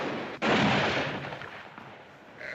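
A single loud gunshot cracks out, followed by a long echoing rumble that fades gradually.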